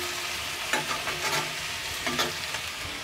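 Onions fry in a pan with a soft steady sizzle, broken by several scraping stirs of a spoon, close and unaccompanied by voices.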